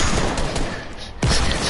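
Gunfire rattles in the Fortnite video game as a brief, loud, continuous burst of rapid shots, with a sharp crack near the end.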